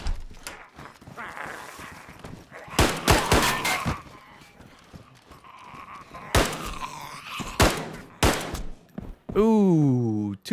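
Video game gunshots: several loud, sharp cracks spaced irregularly across the stretch, mixed with clopping hoofbeats and a person speaking in between.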